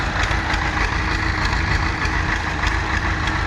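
Tractor engines idle out in a farm field, a loud, continuous low rumble with a steady mechanical throb and faint knocking and no voices.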